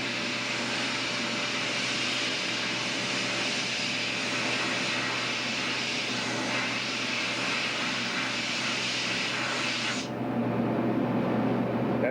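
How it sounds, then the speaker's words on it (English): A sandblaster cleans the cylinder heads of a seven-cylinder radial model aircraft engine, giving a steady, loud broadband hiss of blasting air and grit that runs unbroken for about ten seconds before abruptly cutting off, leaving quieter background noise. "show us his sandblaster here for blasting the heads"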